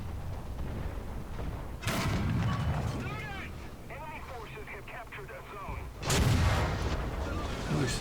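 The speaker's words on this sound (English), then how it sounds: "Somebody's shooting back at me." Enemy tank cannon shells striking a Tiger I heavy tank in War Thunder: two loud, broad booming impacts about four seconds apart, with speech running over a steady rumbling battle background.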